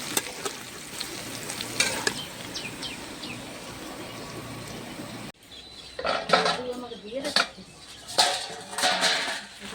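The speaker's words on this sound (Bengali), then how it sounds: "মশলার সাথে পিঁপাটা বেশ ভাজানো হয়ে গেছে" Papaya frying with spices in a pan, a soft sizzle under a scraping spoon, followed by louder intermittent stirring and clinks of the pan, with a person talking in between.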